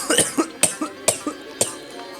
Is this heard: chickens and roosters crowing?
no